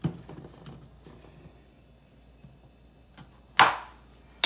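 A knife cutting vegetables on a cutting board while carrots, potatoes and cabbage are prepared for an oven-baked corned beef brisket, with a few soft, close chops and thuds spaced irregularly, followed by a louder sharp slice near the end.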